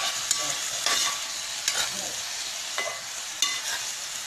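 Potatoes and spinach sauté in a pan with a steady sizzle, broken by several sharp scraping stirs of a spoon against the metal at irregular intervals.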